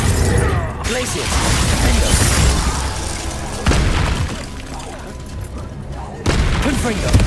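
Glacius freezing spell cast in Hogwarts Legacy, PC, during a busy fight: loud bursts and crackling impacts with sudden onsets at several points, over a dense, rumbling game mix, with a voice speaking.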